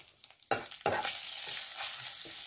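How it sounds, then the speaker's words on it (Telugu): Asafoetida, curry leaves and two green chillies hit hot oil for a tempering, bursting into two sharp sizzles followed by a steady, close frying hiss. "ఇంగువ, తర్వాత కరివేపాకు, 2 పచ్చిమిరపకాయలు ఇవి వేసుకొని పోపు వేసుకోవాలి."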